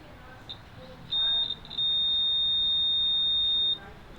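A multimeter sounds its continuity beep during a headphone cable repair on a Beyerdynamic DT1990 Pro: a short bleep, then a steady high-pitched tone held for about two seconds, close and clear over faint room noise.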